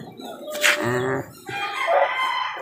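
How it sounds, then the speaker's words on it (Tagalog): A chicken raised from a chick, a white gray and McLean white asil cross, gives loud, close crowing calls and clucks in short bursts, tied up outdoors. "At ayan yung aking inalagaan dati na sisiw."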